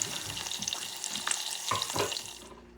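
Butter melts in a pan, a gentle wet sizzle with light crackles and a few soft bubbling pops, close and moderately quiet, fading out near the end with no voices.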